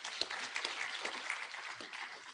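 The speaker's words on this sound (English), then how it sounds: "Give them a clap." An audience at an International Women's Day celebration in Kenya claps in steady, dense applause that sounds far off and fairly faint and keeps going throughout.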